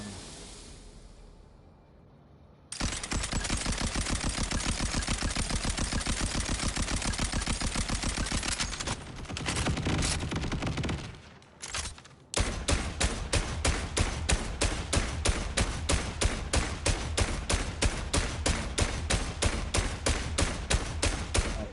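Rapid automatic gunfire from a fire-element gun in the video game Borderlands 4, fired in long sustained bursts of tightly spaced shots with a short break partway through, then a faster, sharply pulsed stream of rounds, loud and close.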